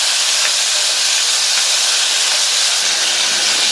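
Green chili, tomato and garlic sautéing in a pan for a thuvaiyal, giving a continuous close hiss and sizzle with no break or voices.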